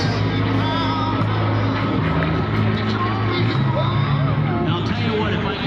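Roar of a P-38 Lightning's Allison engine at the Columbus air show, a loud, steady, continuous drone with low throbbing tones over general crowd noise, no clear breaks throughout.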